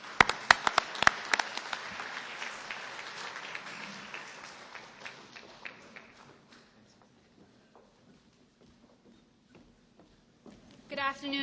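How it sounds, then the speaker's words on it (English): Audience applause at an awards luncheon, dense clapping that starts loud and gradually thins out to scattered claps, then briefly swells again at the end. "Give them a hand of applause."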